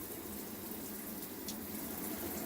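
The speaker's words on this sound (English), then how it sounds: "Now I turn on the faucet slightly" Water running steadily from a slightly opened faucet while a home water system is drained for winterizing, a continuous broadband hiss that stays even throughout.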